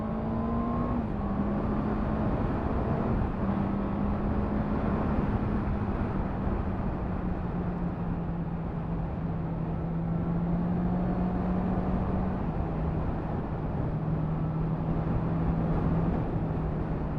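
A 2023 Honda CB650R motorcycle engine accelerates in second gear on an open road, making a steady droning whine that climbs in pitch, shifts once, and carries on under constant wind rush.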